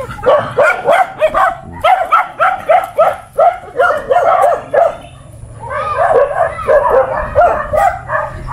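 Several dogs bark rapidly and excitedly nearby, overlapping yaps and yips coming in quick bursts with brief pauses.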